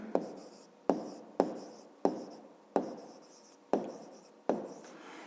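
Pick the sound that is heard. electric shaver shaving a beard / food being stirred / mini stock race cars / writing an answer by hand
writing an answer by hand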